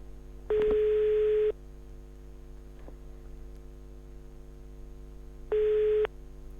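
A telephone ringback tone plays twice, each a steady buzzing beep lasting about a second, separated by a long pause, over a faint background hum, from a motorcycle Android Auto/CarPlay device being tested.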